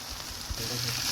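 Aloo gobi, potato and cauliflower, sizzling in a hot kadai, a steady close hiss with a soft stirring bump partway through.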